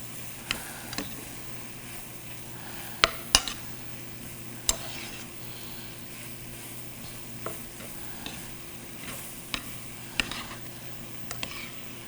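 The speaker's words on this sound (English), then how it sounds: "as you continue moving your vegetables, you'll notice that your kale and your broccoli turn bright green" Chicken, kale and broccoli stir-fry in oil in a pan, a steady close sizzle broken by sharp, scattered clicks and scrapes of a utensil moving the food, with no voices.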